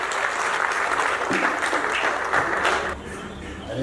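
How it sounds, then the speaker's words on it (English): Applause sweeps through the audience at a Rotary district conference in Diani, a dense, loud patter of many hands that eases slightly before picking up again near the end. "please give him a round of applause"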